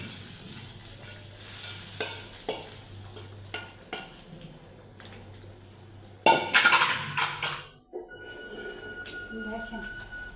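Fried brown onion is tipped into cooked lentils with bottle gourd, giving a soft sizzle and scraping stir strokes, then a sudden loud hiss and crackle as it hits the pot, which fades into quieter bubbling.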